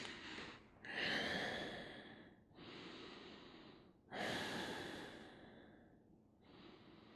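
Slow, deep breaths from someone lying face down on a yoga mat during a relaxation pose, with two long audible inhale-exhale cycles, close and quiet, and no talking.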